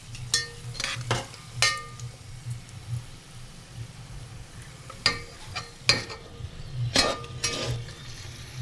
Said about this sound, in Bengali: দেখো কিশমিশগুলো হালকা ভাজা ভাজা হয়ে আসছে।